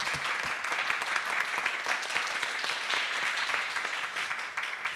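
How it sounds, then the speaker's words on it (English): An audience at a panel session on human spaceflight business claps for the panelists: a dense, even wash of applause that holds steady throughout and stays fairly loud. "please give a big applause to them"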